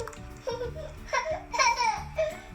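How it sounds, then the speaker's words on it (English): A young child cries and babbles in the background in short, rising bursts, fairly faint and under other household sound. "you can hear my little man crying in the background"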